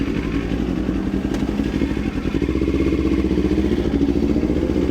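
Kawasaki ZX-4RR motorcycle riding through a tunnel at night, its engine droning steadily and loud, close up, with rumbling low clatter from the road and no talking.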